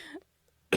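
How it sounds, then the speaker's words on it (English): A single sharp cough lands at the end after a faint trailing bit of speech and near-silence, short and close. "Is it a dry or a wet cough?"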